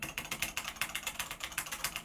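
Mechanical keys on a DaVinci Resolve editor keyboard clack in a steady, fairly quick run of close, crisp clicks, each keystroke distinct and alone without any voices.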